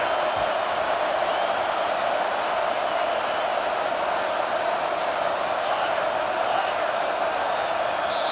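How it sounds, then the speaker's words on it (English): Home crowd at a college football game, Dawgs versus Longhorns, sending up a steady, dense roar of cheering that holds at an even level for the whole stretch with no clear breaks. "this home crowd is fired up and ready to make a difference today"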